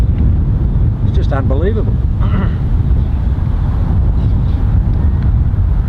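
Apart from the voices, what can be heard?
strong headwind on a golf practice tee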